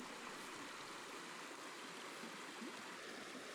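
Steady rushing water of a river flowing in the Cairngorms mountains, continuous broadband wash with no voices, fairly close and even throughout.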